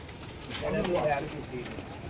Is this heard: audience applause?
no